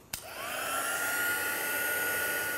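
A heat tool clicks on and ramps up into a steady, loud whirring blow with a rising whine, drying ink on textured card, running continuously with no talk.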